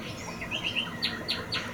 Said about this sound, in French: Un oiseau mécanique, une boîte à surprise.